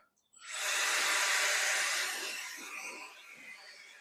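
A Shark BlastBoss leaf blower runs at regular power, starting abruptly with a loud, steady broadband rushing hiss of air close by that holds for a couple of seconds, then eases slightly and continues.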